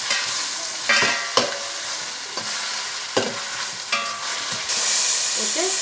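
Gobi manchurian tossed with soy and tomato sauces in a frying pan, a loud sizzle broken by repeated scraping and clanking strokes of a spoon at irregular intervals, no speech.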